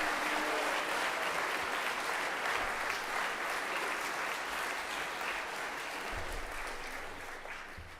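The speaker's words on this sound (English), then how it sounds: "We can have a nice round of applause for them" A chapel congregation at a school ceremony claps in a steady, full round of applause that holds evenly and then slowly tapers off toward the end, heard alone at moderate distance.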